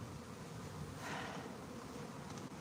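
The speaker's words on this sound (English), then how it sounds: "That is a majorly huge honeybee swarm." A huge honeybee swarm outdoors on a farm, buzzing as a dense, steady drone that holds for the whole stretch, swelling slightly in the middle, with no voices.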